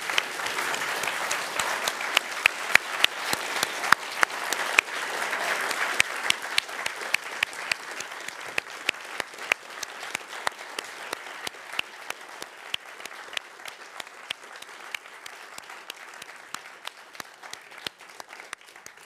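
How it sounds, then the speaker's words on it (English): Audience applause for a team after a public astronomy talk about the Milky Way's black hole: sustained clapping from a crowd, dense at first, then gradually thinning into scattered individual claps that slowly fade toward the end. "let's again give a big round of applause for this entire team"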